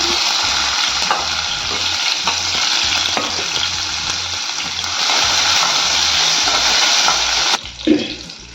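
Crushed ginger, garlic and curry leaves sauté in a hot pan, giving a steady loud sizzle and crackle for most of the clip before the frying quiets near the end.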